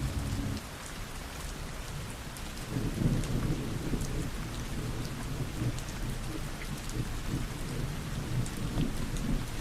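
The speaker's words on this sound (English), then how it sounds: "Listen to the sound of the rain gently falling in the background." Steady rain falls on surfaces while low thunder rumbles beneath it, a dense, even wash of sound that continues throughout with no talking.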